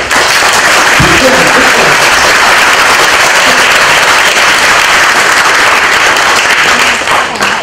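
Sustained, loud applause from a large audience at a conference honoring Thailand's former 27th Prime Minister, Abhisit, a dense steady wash of clapping that holds evenly throughout.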